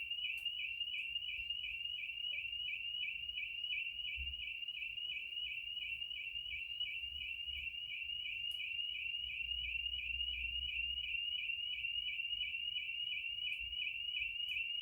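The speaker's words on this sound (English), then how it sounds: "gone all exciting with their alarm." A neighbours' alarm going off outside a home art studio, a continuous rapidly warbling high electronic tone repeating evenly throughout, faint and distant, with low background rumble underneath.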